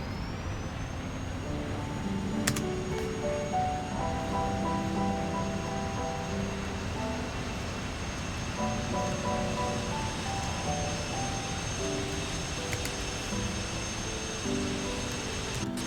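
An aircraft engine in the Microsoft Flight Simulator video game drones steadily with a sustained tonal hum and shifting pitched layers, moderately loud and continuous throughout.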